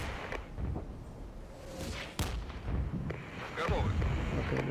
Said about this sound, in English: now let's begin with the bombardment here